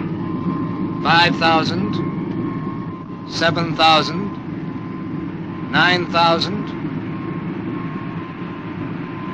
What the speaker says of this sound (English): Charging starboard engine.